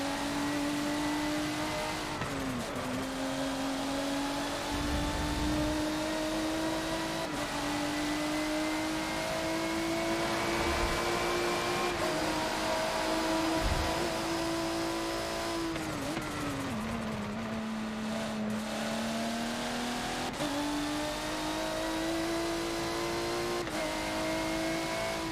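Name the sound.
McLaren P1 car engine in Forza video game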